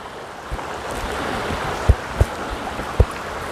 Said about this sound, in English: here's a nice little stream for you